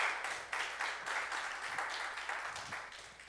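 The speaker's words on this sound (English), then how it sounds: "Let's give a hand clap to the Lord" A church congregation claps hands together at a Sunday worship service, a steady, dense patter of many hands with faint rhythmic accents throughout, moderately distant and fairly quiet.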